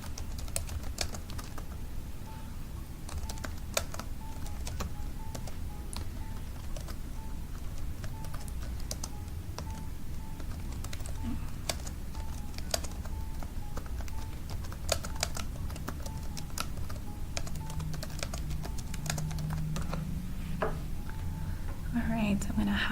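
Typing on a computer keyboard produces a steady, close patter of key clicks throughout, with a voice talking over it.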